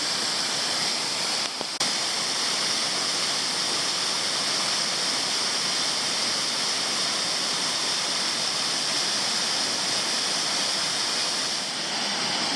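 Weld Angel Falls in Tasmania pours down in a constant, dense rushing roar, heard nearby and unbroken apart from a faint brief knock early on.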